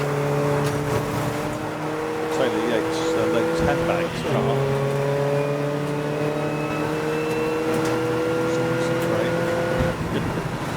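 Race cars, including a 2.5 litre BMW Compact with a rear wing, running a 750 Motor Club Roadsports race at Snetterton along the Bentley Straight: a steady, loud engine drone with a gear-change dip midway, under continuous commentary.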